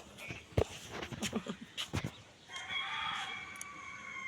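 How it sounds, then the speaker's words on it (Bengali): A rooster crows once in a long drawn-out call at a moderate distance, after a few seconds of scattered clucks and knocks. "ওখানে একটা মোরগ ডাকতেছে মা"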